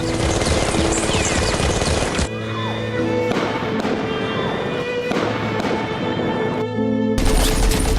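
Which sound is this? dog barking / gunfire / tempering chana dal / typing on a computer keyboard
gunfire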